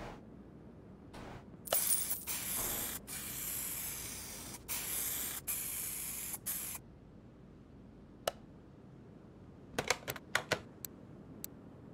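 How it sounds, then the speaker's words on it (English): Spray gun painting a car body in the factory colour inside the paint shop of Car Mechanic Simulator 2021, a steady hissing spray in several long bursts followed by a few short clicks. "Spray it the factory color."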